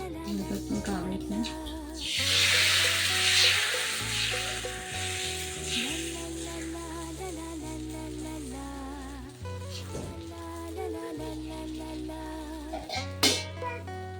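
Rice dosa (ghavne) batter hitting an oiled pan sets off a loud burst of sizzling that settles into a steady fry, heard over continuous background music.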